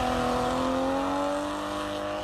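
A car, apparently a BMW M340 with a loud aftermarket exhaust, roars nearby with a strong, droning exhaust note that rises and shifts steadily as the engine revs, loud and continuous throughout.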